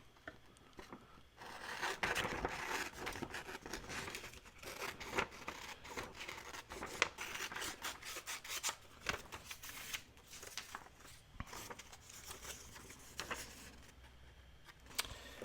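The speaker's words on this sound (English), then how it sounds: "I think I'll cut this out, and that can be 2 more little journaling cards." Scissors snipping through paper to cut out small journaling cards, soft close crisp cuts and paper rustling at a low level with no talking.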